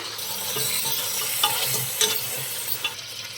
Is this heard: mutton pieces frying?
yes